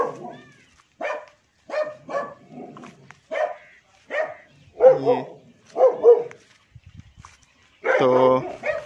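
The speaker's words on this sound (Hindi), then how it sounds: "ये जिनके पौधे हैं उनका डॉगी भी बोल रहे हैं" A dog on a village farm barks repeatedly in short, spaced bursts, fairly close and clear, with a longer harsher bark near the end and no talk over it.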